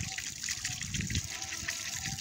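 Water pours steadily onto the soil of a potted rose plant at home, a close, continuous gushing trickle with faint speech beneath it.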